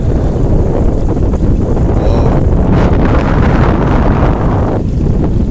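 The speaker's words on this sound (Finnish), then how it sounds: "Täällä kohtaa tuulee myös aika kovaa." Strong wind buffets the microphone outdoors on a northern Norwegian coast, a loud continuous low rumble with gusty swells that holds steady throughout, with no other clear sounds.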